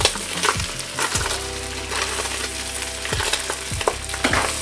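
A spoon stirs chili ingredients in a pot, scraping and knocking against the bottom in irregular strokes over a steady frying sizzle and low hum, close and fairly loud.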